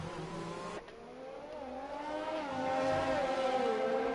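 Formula 1 race cars in a Bahrain Grand Prix esports race, with a steady loud engine whine that climbs in pitch as the car accelerates, one abrupt gear-change dip early on, and no talking over it.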